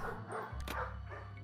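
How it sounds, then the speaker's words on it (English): Ghost dogs bark in the Nancy Drew video game Ghost Dogs of Moon Lake, a short burst of one or two close, loud barks over a low steady background hum. "These dogs have been trained to act vicious on command."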